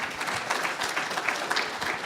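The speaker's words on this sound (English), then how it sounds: "applaud Hugo Perez" Applause for Hugo Perez at the opening program of a library of burned books installation, a steady wash of dense clapping from a room of people, moderately loud and continuous throughout.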